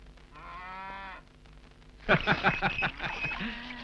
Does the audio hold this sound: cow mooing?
yes